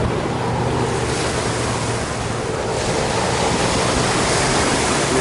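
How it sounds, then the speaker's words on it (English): Ocean surf rolls in continuously at Tateyama Beach in Chiba, a loud, steady wash of breaking waves close by, with wind buffeting the microphone throughout and no voices. "The ocean. This is Tateyama Beach, Chiba."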